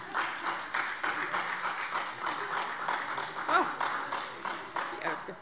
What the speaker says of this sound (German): das merke ich mir, dass es so einfach ist, ein bisschen mehr Applaus zu kriegen in diesem Haus